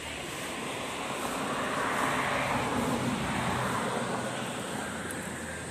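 Cold spring water gushes strongly at Matnog, Sorsogon, making a steady, loud broadband rush that stays even and unbroken throughout, with no talking.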